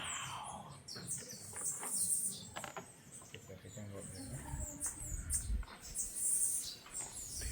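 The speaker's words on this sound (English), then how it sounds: "Guys, listen to the bird." Birds chirp at Rocklands bird sanctuary near Montego Bay, Jamaica, with sharp high calls scattered through the clip over a low rustling background and nearby voices.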